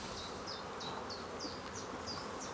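Honey bees buzz steadily and densely during an inspection of Langstroth and Segeberger hives, a close, continuous hum with quick repeated whining passes from bees flying near.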